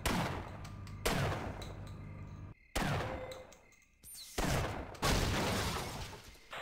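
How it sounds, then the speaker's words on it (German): Bursts of gunfire in the Half-Life mod Mission of Mercy, several loud, sharp volleys separated by short pauses, each trailing off in a decaying rattle, with no talk over them. "Ich kann sogar noch schießen hier."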